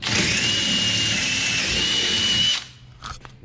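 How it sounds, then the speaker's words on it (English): A power drill whines loudly and steadily for a couple of seconds drilling through a Polaris RZR XP 1000's metal exhaust, then cuts off, leaving a few faint clinks and quiet room noise. "let's go ahead and get into a position to drill this thing out"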